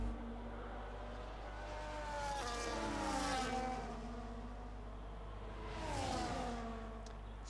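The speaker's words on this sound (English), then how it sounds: "Beautiful sound F1 cars" In the video game F1 25, F1 cars race at the Netherlands round, with two quiet whining engine passes that rise and fall in pitch, separated by a softer stretch of engine noise.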